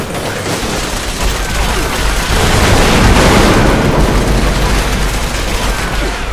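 A Guardian robot in Fallout 76 unleashes a continuous, loud barrage of rapid gunfire with booming impacts, a dense roar of shots that never lets up throughout.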